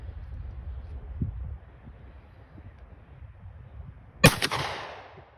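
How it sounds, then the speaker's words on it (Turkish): A single sharp, loud blast from a pump-action shotgun firing a 32-gram Foster slug outdoors, preceded by quiet wind noise and faint rustling, with a short ringing echo after the shot. "Pompalı tüfeğimle başlıyorum ilk."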